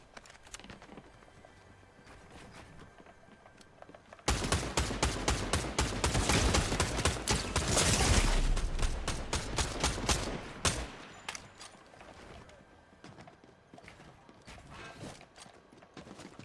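Video game gunfire in Ratchet & Clank: a dense, loud barrage of rapid shots and impacts bursts in suddenly, lasts several seconds, then thins out into quieter game sounds.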